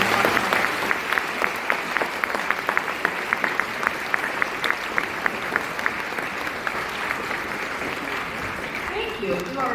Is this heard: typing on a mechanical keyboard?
no